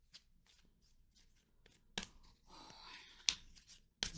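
A deck of tarot cards is shuffled by hand, giving soft riffling rustles followed by several sharp, crisp clacks and bursts as the cards snap together, close and fairly quiet, with no voices.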